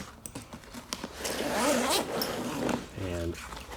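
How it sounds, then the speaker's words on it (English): A pocket zipper on an eBags Pro Weekender bag is pulled open in one long, close, rasping run, with a brief voice near the end. "And unzip this."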